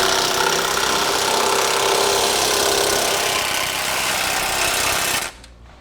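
A power tool tightening bolts on a Blue Ox base plate kit being fitted to a 2013 Cadillac SRX, one continuous loud buzzing whir lasting several seconds before it cuts off abruptly.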